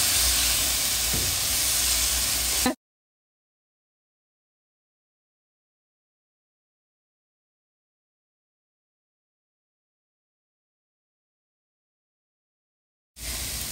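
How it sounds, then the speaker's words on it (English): Vegan beef substitute sizzles in a hot pan as it is stirred, giving a loud, steady hiss for under three seconds. Silence follows, and the hiss briefly returns at the very end. "I'm stirring it around, and as I'm doing that, it's absorbing into the beef."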